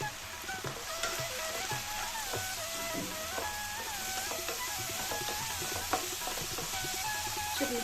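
Tomatoes cooking down in oil in a pan, a steady soft sizzle and bubbling with small crackles and occasional stirring clinks, fairly quiet and close.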